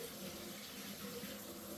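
Tap water runs steadily into a kitchen sink while something from a boiled Irish coddle dinner is rinsed off, a constant close wash of splashing with no talk.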